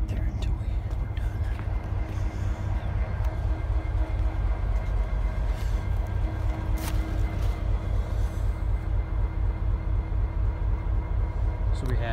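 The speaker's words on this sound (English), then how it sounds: "2807 Colombian Walla Walla Rail just started up, back in town, back in business, bringing grainers and tankers." A GP49 diesel locomotive, formerly of the Alaska Railroad, hauls a freight train of grain hoppers and tank cars, a steady, loud, close rumble of engine and rolling wagons throughout.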